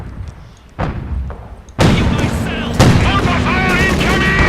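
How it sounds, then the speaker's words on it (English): Mortar fire in Company of Heroes 2, a few heavy thumping blasts with rumbling tails mixed with gunfire during a 3v3 battle, with brief voice lines over it. "Mortar fire incoming."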